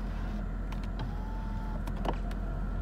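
Power tilt steering column on a 2006 Mercedes S55 AMG whirring as it adjusts, a faint electric motor hum with small clicks inside a quiet cabin.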